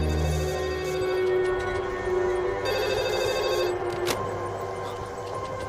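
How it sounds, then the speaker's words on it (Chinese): A telephone rings with an emergency incoming call, repeated electronic ringing tones over a background music score, moderately quiet. "是龟岛国首座的紧急来电"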